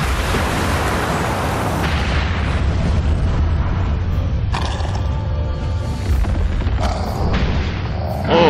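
Synchronized attack explosions in the Naruto Shippuden Ultimate Ninja Storm Revolution video game: a continuous heavy booming barrage with sharp bright blasts striking around the middle and near the end, loud and dense throughout.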